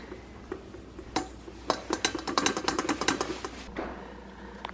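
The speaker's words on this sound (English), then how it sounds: "you actually sift and press both the almond flour and the confectioner's sugar through a wire mesh sifter like this one" Almond flour and confectioner's sugar pushed through a wire mesh sifter, a quick run of close, light rhythmic taps and scraping clicks that builds and then eases off, with no talking.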